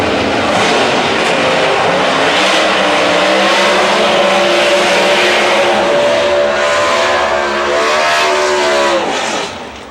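A Pro Stock drag race car at Houston Raceway Park launches with a loud, sustained engine roar that climbs steadily in pitch through the gears, staying near and dominant before easing off at the end.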